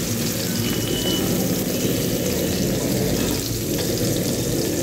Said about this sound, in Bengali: তেল গরম, এবার এখন একটু লবণ দিয়ে তেলটাকে করে তারপরে পেঁয়াজটাকে ভালো করে ভাজার জন্য দিয়ে দিলাম।